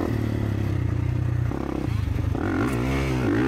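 A 2024 Kawasaki KX450 motocross bike runs at Stillwater MX. The engine note is loud and continuous, with a strong harmonic drone that climbs and wavers in pitch near the end as the throttle opens.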